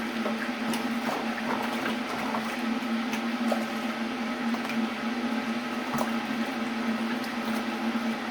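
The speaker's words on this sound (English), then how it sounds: "I'm sorry if you can just hear me with the kettle there," A steady bubbling, rushing roar of water heating in an electric kettle, constant and fairly close with a low hum running through it.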